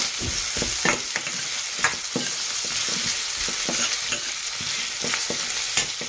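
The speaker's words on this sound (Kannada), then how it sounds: "ಇದೊಂಚೂರು ಕಲರ್ ಚೇಂಜ್ ಆಗೋವರೆಗೂ ಫ್ರೈ ಮಾಡ್ಕೊಳ್ಳೋಣ." Potato and soya chunks fry in a curry pan, a continuous sizzle broken by scraping stirs at an irregular rhythm, close and steady with no voices.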